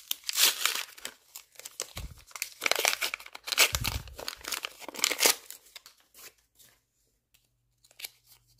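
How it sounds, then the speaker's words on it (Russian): A paper packet is opened with close, loud crinkling and tearing in several bursts, then quieter rustles and faint handling noises near the end. "Открываем наш пакетик."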